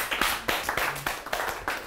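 A small group clapping for a young man during a documentary session, a short round of brisk, close hand claps in an uneven rhythm, with no speech over it.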